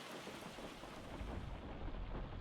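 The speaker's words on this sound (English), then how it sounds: "Hail bouncing off it and marking my nice paint." Steady hailstorm in the farming game Farming Simulator 25, a dense continuous roar of pelting ice with low rumbling underneath, with no talking.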